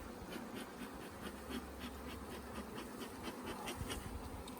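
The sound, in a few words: honey bees buzzing during a hive honey harvest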